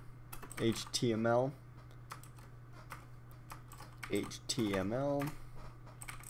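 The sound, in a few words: typing on a computer keyboard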